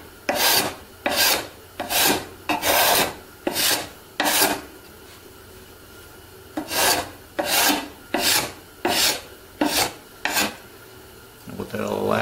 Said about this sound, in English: is take a card scraper.